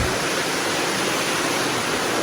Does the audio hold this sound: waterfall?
yes